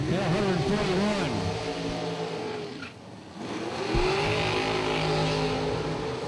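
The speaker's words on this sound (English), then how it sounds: "Tires blazing on the Bear Motorsports car." Drag racing car at a Super Pro Challenge event, the Bear Motorsports car, tires blazing after rolling out of the water box: loud, close engine revving with rising and falling pitch sweeps, a brief dip mid-clip, then roaring again.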